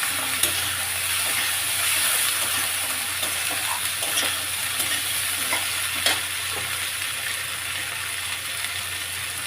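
Turmeric and ginger spices frying in a pan for a pumpkin and fish curry: a steady, bright sizzle with intermittent stirring scrapes and clinks, fairly close and continuous.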